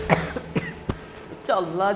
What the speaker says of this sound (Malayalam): ചുമ തുടങ്ങിയാൽ നിർത്താൻ പറ്റില്ല.